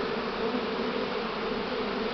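A spring swarm of honeybees, an irritable, swarm-prone colony with its queen, fills the air with a dense, continuous buzzing that holds steady and close, with no voices.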